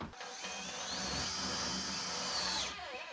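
A drill driving a 4-inch screw through a board into a porch header, a close, steady whirring whine that rises in pitch and holds for about three seconds before stopping, with no talk.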